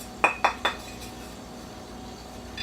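Three quick bright metallic clinks of steel bullet trays for a Dillon XL650 reloading press being handled during unboxing, sharp and close, followed by a quiet room.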